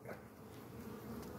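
Honeybees buzz at a healthy hive with exposed honeycomb, a dense, steady drone of many insects, faint and continuous, with no talk.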